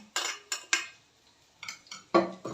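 Fried leftover rice clattering onto a plate as metal utensils scrape and clink in several quick bursts, close up with short pauses between.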